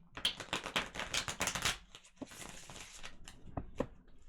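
Tarot cards shuffle in quick riffling bursts, close and crisp, followed by a few softer slaps and rustles.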